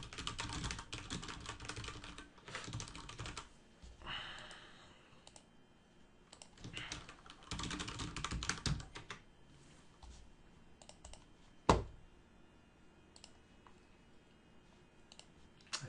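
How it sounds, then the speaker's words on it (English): Keyboard typing in bursts of quick clicking keystrokes while entering details into a web form on a computer, close and moderately quiet, with pauses between runs and one sharper knock near the end. "So we'll just type it in here again,"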